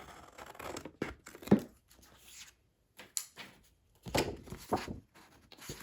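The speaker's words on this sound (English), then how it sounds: "So I'm just gonna go ahead and trim that down like that." Paper is trimmed down by hand to form a pocket for a vintage Halloween journal layout. Short, close bursts of crisp rustling, tearing and cutting come in two clusters with a quiet pause between them.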